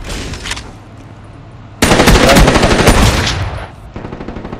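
Rapid automatic gunfire from a weapon in the video game Black Ops 3, a loud dense burst of shots lasting about two seconds, followed by a quieter stretch of further rattling fire.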